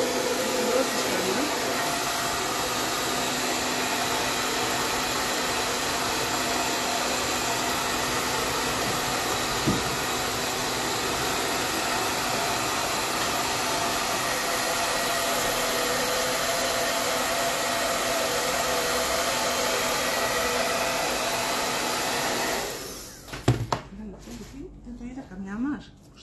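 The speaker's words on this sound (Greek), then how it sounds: "στεγνώνω με ζεστό αέρα" A heat gun blows a steady, loud rush of hot air onto poured paint, running continuously for over twenty seconds, then cuts off near the end with a few small clatters.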